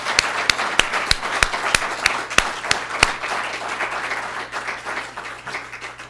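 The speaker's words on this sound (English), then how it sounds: "Please give our orators a great round of applause." An audience applauds senior orators at a Wake Forest University senior colloquium, starting with a few loud, evenly spaced claps over dense clapping that carries on steadily, then thins slightly toward the end.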